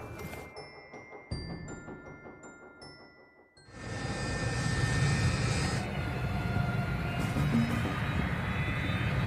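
Steady, loud roar of an airplane engine fills the scene after a few seconds of quieter chiming tones and rumble.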